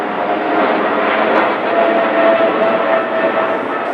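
An airplane flies low overhead after taking off from a nearby runway, a broad, steady engine roar that stays close and loud for the whole stretch, with no talking over it.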